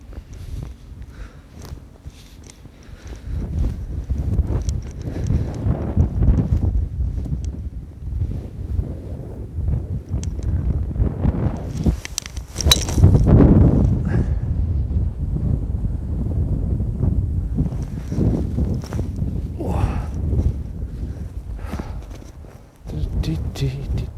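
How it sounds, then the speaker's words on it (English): Strong, gusty winter wind blows across a golf course at Dinsdale Golf Club and buffets the microphone in loud, swelling rumbles that rise and fall, while people talk nearby. "Yeah, strong gusts today."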